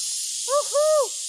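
A person calls out with owl-like hoots, a voice imitating an owl in two rising-and-falling calls, each heard over a steady background hiss.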